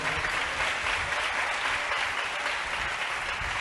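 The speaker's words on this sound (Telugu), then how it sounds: "ఒకసారి గట్టిగా చప్పట్లు పడి ప్రభు నామాన్ని కనపడుదాం" A church congregation claps loudly and continuously, a dense, even burst of applause filling the room without speech.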